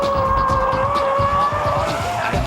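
A car drifts through a corner at Fuji Speedway's 100R, its tires squealing in a sustained high-pitched whine over a loud, rough engine drone, close and continuous throughout.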